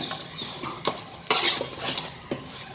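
A spoon stirs and scrapes vegetable upma with roasted peanuts and coriander in a pan, giving a few sharp metallic clinks and scrapes close up with no talking.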